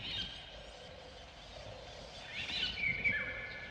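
Agitated calls from blackbirds at a nest raided by a magpie, a few chirps and harsher notes rising toward the end over a steady outdoor background, with no talk.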